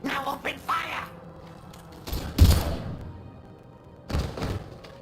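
Gunfire in Mass Effect Legendary Edition: a few broadband bursts and thuds, one loud volley near the middle and another toward the end, mixed with game dialogue and mechanical noise.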